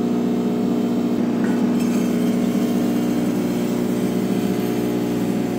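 Concrete polishing machine running a 600 grit pad over a concrete floor, giving a steady, loud, continuous mechanical drone with no breaks and no talk over it.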